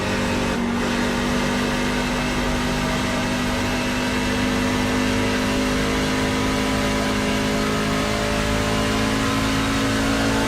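Loud, sustained engine roar of a NASCAR Craftsman truck at Texas Motor Speedway, a steady droning whine holding close and constant throughout with no voices.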